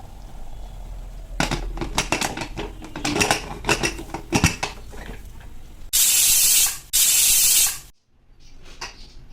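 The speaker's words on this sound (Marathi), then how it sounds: "आता आपण याला प्रेशर झाकण लावूया आणि प्रेशर दोन दोन शिट्या काढून आपली खिचडी तयार होईल" Rattling and clicking give way to two loud bursts of hissing steam from a pressure cooker whistle cooking dried-prawn khichdi, close up, ending abruptly.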